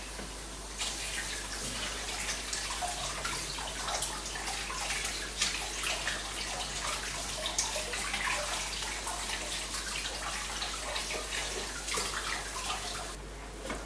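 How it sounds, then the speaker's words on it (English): Water runs and splashes steadily as a freshly nickel-plated metal part is rinsed under a tap, a continuous close hiss of flowing water with small irregular splashes and no talk. "take it out and put it in water, clean it"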